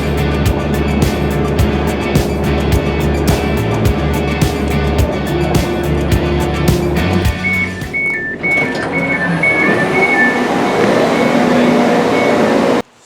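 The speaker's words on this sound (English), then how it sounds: "So I'm going to jump on the train now and head to Flint." Steady rumbling interior of a moving Pacer train on a line toward Flint in North Wales, loud continuous rolling and clatter with tonal whines, ending abruptly.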